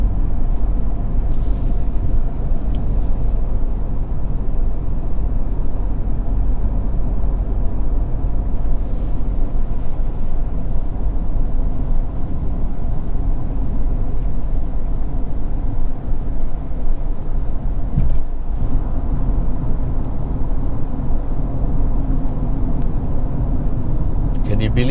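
Peugeot 2008 1.2T cruising on a highway at about 96 km/h: a constant loud low-frequency road and engine drone inside the cabin, steady throughout, with a voice speaking over it at times.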